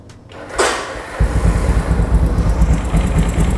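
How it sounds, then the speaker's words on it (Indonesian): Honda CB350 custom cafe racer with a two-cylinder 360 cc engine cranks over and starts, then settles into a loud, close, rough idle with a steady low throb. "Coba langsung kita hidupin ya, suaranya seperti apa. Jadi 2 silinder 360 cc."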